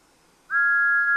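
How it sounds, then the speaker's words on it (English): A single sustained steam locomotive whistle toot starts abruptly after a moment of quiet and holds one steady, clear, high pitch. "Thomas gave one sad toot of his whistle and slowly pulled away."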